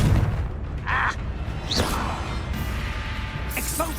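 The Confringo explosion spell in the video game Hogwarts Legacy fires as a few sharp whooshing bursts with dull booms and mechanical clatter. Steady game ambience runs underneath.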